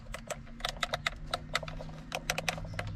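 Dashboard buttons on a Porsche 911 click after being cleaned of stickiness, giving a quick, irregular series of light, crisp plastic clicks, some doubled, fairly close and quiet over a low background hum, with no voices.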